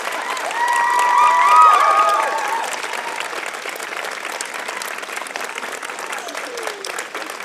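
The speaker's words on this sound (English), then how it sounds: "give a rousing round of applause for your support network" Audience at a Trent University convocation ceremony applauds graduates' support network, a loud swell of clapping with some cheers that peaks early then settles into steady sustained applause.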